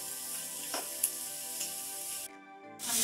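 Chopped colourful vegetables sizzle steadily in a pan for a veg omelette, a soft continuous frying hiss with faint ticks and a tonal hum in the background, cut by a brief silent gap.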